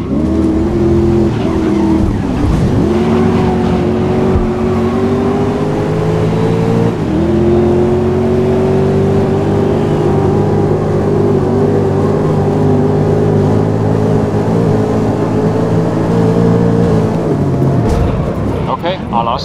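Race cars in the video game GRID (2019) roar together at the start of a long Grand Circuit race, engines droning steadily with shifting pitch and loud throughout, with a voice talking over the racing.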